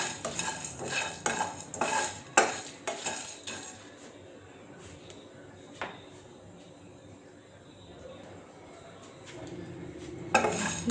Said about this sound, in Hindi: इनको हम अच्छे से ड्राई रोस्ट कर लेंगे।